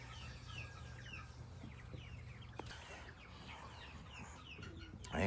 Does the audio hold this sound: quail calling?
yes